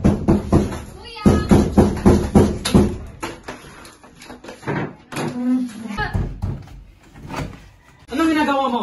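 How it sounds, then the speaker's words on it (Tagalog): A door is rattled and banged repeatedly in a tense scene of a short drama film, with rapid loud knocks under frantic shouting voices, then calmer talk. "Ruben, buksan mo yung pinto!"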